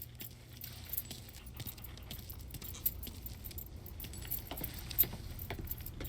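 Car keys jingle faintly in the crime video game Mafia III, small metallic clinks scattered over a quiet low background hum.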